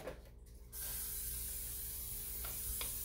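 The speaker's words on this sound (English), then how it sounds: "So we're going to grease it. We have cooking spray." A steady aerosol spray of cooking spray greasing a baking pan hisses continuously for a few seconds, close and fairly loud, after a brief quieter moment at the start.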